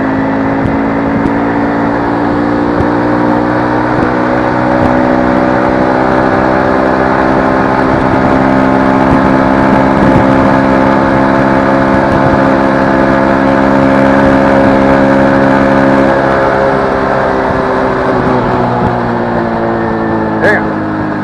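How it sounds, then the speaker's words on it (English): XPro 125 cafe motorcycle engine droning loudly while riding at speed, a steady buzzing whine with shifting harmonics that hold for the whole stretch, close up and continuous. "I do not like going over 45 on this little bike."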